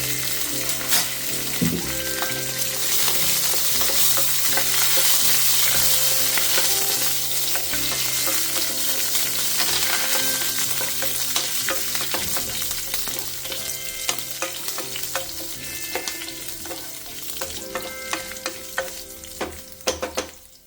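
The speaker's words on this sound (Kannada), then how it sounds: "ಇದನ್ನು 3 ಹಾಕ್ಬಿಟ್ಟು ಒಂದು ಸ್ವಲ್ಪ ಹೊತ್ತು ಫ್ರೈ ಮಾಡಿ" Green chillies and curry leaves with ginger fry in hot oil in a pan for coconut rice, giving a loud, close, sustained sizzle with crackling pops and occasional stirring clinks, and no talk.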